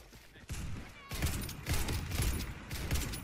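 Marlin 1897 firing in the video game Warface, a run of rapid gunshots in bursts after a short gap, loud and close.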